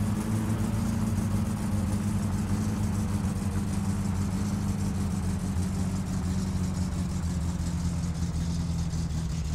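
A car engine in the driving game My Summer Car runs at a steady idle, with a loud, continuous low rumble that holds throughout and no talking over it.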